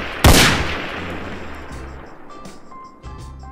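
A single loud gunshot in a realistic gun video game, sharp near crack followed by a long decaying tail and faint background game sounds.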